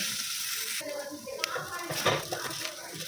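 Capsicum frying in a pan for pav bhaji, a steady close sizzle with occasional utensil clinks and scraping stirs over the whole stretch.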